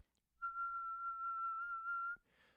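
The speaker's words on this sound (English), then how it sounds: "So what I like to do are what are called whistle tones" A flute whistle tone: a single steady, pure whistle-like tone held for nearly two seconds, soft and airy, followed by a brief breathy hiss.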